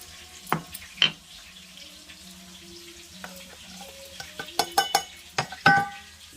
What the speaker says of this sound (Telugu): సో ఈ దొండకాయలు కొంచెం ఆయిల్లో వేసుకొని కొంచెం డీప్ ఫ్రై చేసుకున్నాం